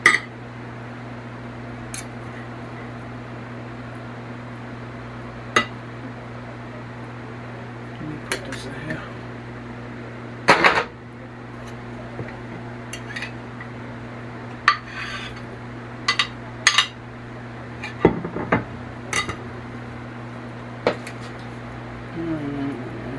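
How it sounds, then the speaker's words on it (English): A metal utensil scrapes and clinks against a Presto electric skillet while beef stew cooks, with sporadic sharp scrapes and taps over a steady electrical hum, close and fairly loud, no voices. "I can't stand that scraping noise"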